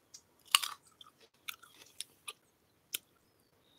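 Someone bites and chews fruit close to the microphone, making a series of short, crisp crunching and wet chewing sounds spaced irregularly amid quiet.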